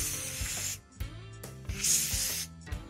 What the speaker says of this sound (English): I've got some compressed air.